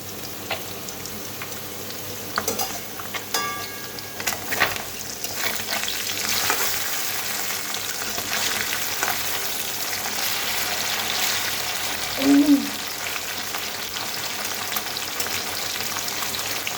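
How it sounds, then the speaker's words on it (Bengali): Bata fish fries in hot oil with a sustained, close crackling sizzle, broken by intermittent stirring and turning sounds and a brief louder flare-up near the end, with no one talking. "আমি বাটা মাছগুলো ভেজে ভেজে উঠিয়ে নিই"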